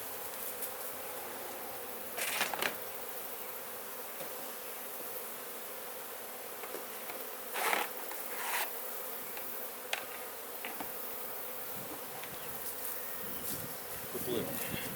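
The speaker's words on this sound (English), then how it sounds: "luckily there's not very many bees on it" Honeybees buzz around a honey frame during a harvest, a continuous soft hum from a few bees nearby, with occasional louder passes close to the listener.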